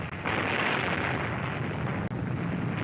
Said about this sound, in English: In this view of the blast recorded from a camera tower on Bikini, the suction caused by the explosion can be seen